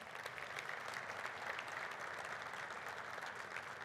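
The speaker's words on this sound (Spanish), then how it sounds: "les voy a pedir un fuerte aplauso de inicio" Steady, dense audience applause at a Spanish-language industry symposium opening, a full room clapping loudly and continuously with no talk over it.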